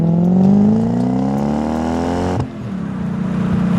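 A manual IS300 wagon with a V8 swap revs up hard through a short gear, the engine note climbing loudly before a quick shift drops it briefly and it pulls again, close and without talk.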